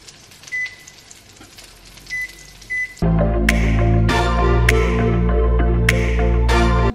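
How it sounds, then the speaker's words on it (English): A microwave oven set on high while steaming broccoli: a few soft beeps, then a loud, steady hum with a sharp tick or two running to the end. "Microwave on high, 5 to 6 minutes."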